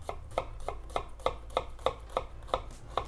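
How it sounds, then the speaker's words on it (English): A knife finely minces an onion on a board in quick, even chops, about three per second and around ten in all. The taps are crisp but fairly soft, with no talking. "To start the sauce, mince an onion. I'm gonna mince this as fine as I can."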